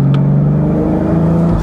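A 2019 BMW Z4 M40i with the Supra-shared engine, heard loud and close in Sport Plus mode as a steady engine drone, with no distinct exhaust pops standing out.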